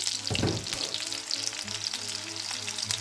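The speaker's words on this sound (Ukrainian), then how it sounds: "Накриваю кришечкою, смажу на середньому вогні." Steady crackling sizzle of battered chicken nuggets frying in hot oil under a lid over medium heat, dense and continuous, with a brief louder pop near the start.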